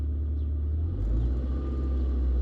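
A Toyota Previa minivan's engine accelerates from inside the cabin, a low road rumble that rises and thickens after the first second and holds steady to the end, with no voices.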